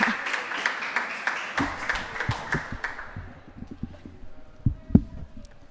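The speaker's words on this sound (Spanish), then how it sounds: "yo quiero que recibamos con un aplauso muy fuerte" Applause from an audience at a municipal candidate registration event starts as a dense round of clapping, then thins to scattered individual claps with some low thumps and faint voices.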